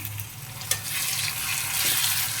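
Dried fish is stir-fried in a pan with a loud, dense sizzle that runs throughout, marked by one sharp knock of a spatula and brief scraping, close and with no speech.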